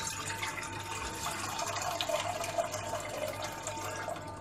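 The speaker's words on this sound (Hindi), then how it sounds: "इसमें पानी ये डाल के इसको उबालना है" Water poured into a cooking pot set up for boiling, with salt added, while preparing rice flour roti; a steady, close splashing pour runs throughout without talk.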